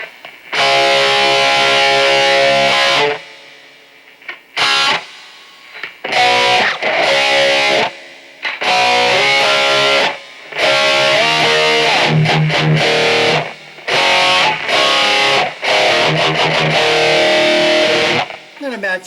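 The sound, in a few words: electric guitar crunch tone with reverb, delay turned off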